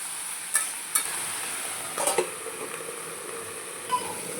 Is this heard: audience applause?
no